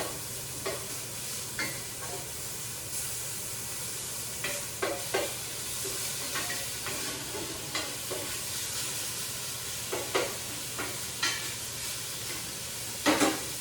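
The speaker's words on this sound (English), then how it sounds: "I'm going to stir my bacon, trying to get the fat to render out of it" Bacon rendering its fat in a pot for oyster chowder, sizzling steadily while a spoon stirs and scrapes in irregular strokes every second or so, close and clear, with no one talking.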